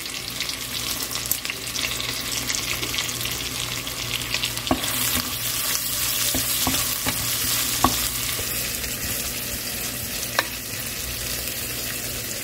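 Onions and curry leaves frying in a pan for a Kerala fish curry, a steady dense sizzle with occasional sharp spatula taps, close and continuous with no talk.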